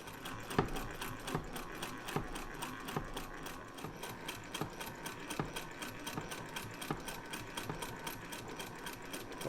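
A Wheeler & Wilson No 9 treadle sewing machine runs steadily, its needle and mechanism ticking in an even rapid rhythm with a light clattering hum, close and fairly quiet throughout.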